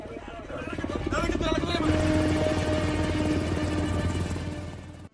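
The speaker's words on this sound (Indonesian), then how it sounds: "Beberapa helikopter mengepung Scotchy." Loud helicopter rotor drone with a steady low thrum and engine whine, building and holding close by before cutting off abruptly at the end.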